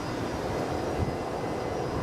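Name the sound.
Solomon Airlines Airbus A320 airliner at Brisbane airport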